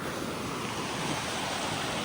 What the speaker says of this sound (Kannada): ಇಲ್ಲಿ ನೋಡ್ರಿ ನೀರು ಎಷ್ಟೊಂದು ಹರಿಯಕ್ಕೆ